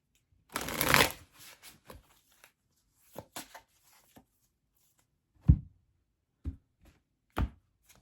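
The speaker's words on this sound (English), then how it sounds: "give them a shuffle" A deck of oracle cards being shuffled at close range, a dense riffling burst followed by a few soft taps and slaps of the cards settling, with no talking.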